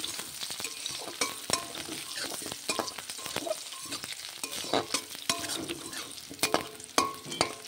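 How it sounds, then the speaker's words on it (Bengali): Potatoes and onions fry lightly in oil left over from frying fish, a close steady sizzle broken by frequent scraping and stirring knocks from a spatula; no voices. "এখন এই তেলের মধ্যেই আলু আর পেঁয়াজটা ভেজে নিতে হবে হালকা করে।"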